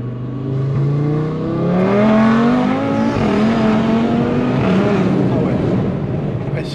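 An Audi RS3 tuned to 600 horsepower revs loudly and close by, its engine note rising and falling in repeated sweeps across several seconds with a steady roar throughout.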